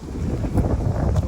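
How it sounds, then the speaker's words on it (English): Heavy wind buffeting a microphone, a dense low rumble with gusty swells across the whole short stretch, loud and close. "Hopefully you can hear me through all this wind."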